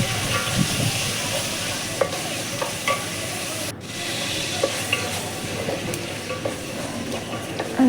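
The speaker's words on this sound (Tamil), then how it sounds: "கடுகு நல்லா பொரிஞ்சதுக்கப்புறம் சின்ன வெங்காயம், தக்காளி போட்டு நல்லா வதக்கிக்கலாம்." Shallots and tomatoes sautéing in a pan after mustard seeds and curry leaves have popped, for a Tamil fish curry, giving a continuous close sizzle with scattered spatter crackles and a brief dip midway.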